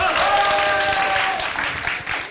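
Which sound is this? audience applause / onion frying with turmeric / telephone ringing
audience applause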